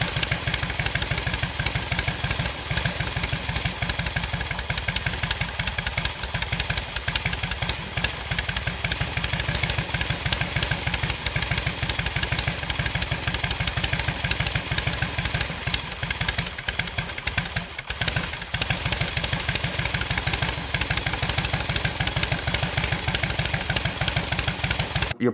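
An S&S Super E carbureted motorcycle engine idles steadily and fairly loud throughout while its carburetor mixture screw is being adjusted, with a continuous uneven thumping rumble and no speech.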